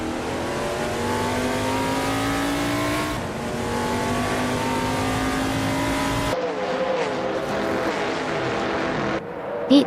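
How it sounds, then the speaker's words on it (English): AI race cars in a racing video game roaring past with high, steady engine whine and shifting revs, loud and continuous, with a brief cut to a different engine note near the end. "Hope you're ready for some exciting AI car races today."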